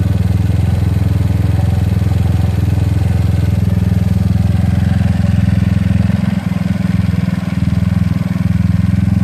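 A GY6 scooter engine fitted with an OKO PWK 30mm carburetor that is being tuned runs close and loud in a steady low drone, with its rhythm slightly unsteady near the end.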